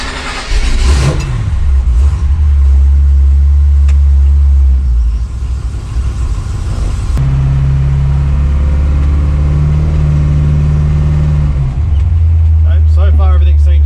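A Holden HQ car's engine runs loud and steady on a test drive after being back on the road. It drones with swells of revving throughout, and its pitch shifts midway as the car accelerates.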